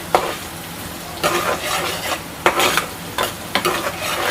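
Freshly pounded ginger garlic paste with cloves being stirred in a hot pan, loud repeated spatula scrapes over a steady sizzle, about five strokes in an uneven rhythm.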